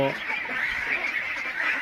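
A flock of ducks at a duck farm in Thakurgaon keeps up a dense, continuous chorus of loud, nasal quacking and honking.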